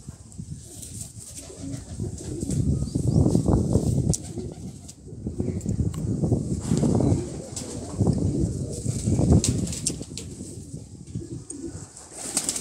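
Kagdi pigeons of an old breed coo in a low, throaty, repeated rhythm, with bursts of rustling and faint wing movement throughout, close and steady with no speech.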